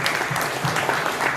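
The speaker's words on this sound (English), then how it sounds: "Y'all clap it up for Our Ball Nation," Applause from a live audience at a fireside chat event, loud and close, a sustained burst of many hands clapping with no talking.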